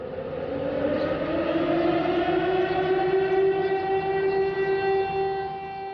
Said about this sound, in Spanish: suena una sirena para despertar a la ciudad y sus moradores